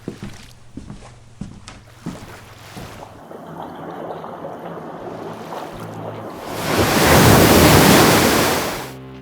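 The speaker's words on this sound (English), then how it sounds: "I heard the sea begin to boil" Sea waves churn and crash as a sound effect, starting with scattered splashes and wind, then swelling into a loud, roaring surge of boiling surf near the end.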